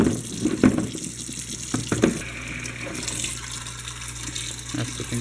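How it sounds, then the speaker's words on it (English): Canister filter ceramic media and a pink filter pad rinsed under a running tap, a steady splashing stream of water into a sink with a few clunks and handling sounds, close and alone. "Rinse out the cera media and the pink pad in the bottom will just get cleaned probably."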